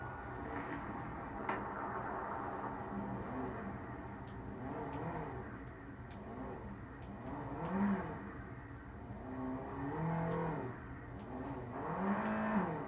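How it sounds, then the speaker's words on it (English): Engine note of a Benefactor Panto, a small three-cylinder city car with a titanium exhaust in GTA, rising and falling through repeated revs at a steady moderate level with no talking. "let's go ahead and get our sound clip of the car"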